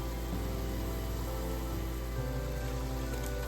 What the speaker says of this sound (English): Ginger garlic paste, half cup. How to make ginger garlic paste? Tips are available in my channel. Saute for a minute.